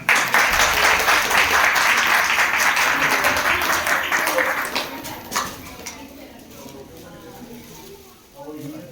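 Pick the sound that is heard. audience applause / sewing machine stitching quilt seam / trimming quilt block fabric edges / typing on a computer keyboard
audience applause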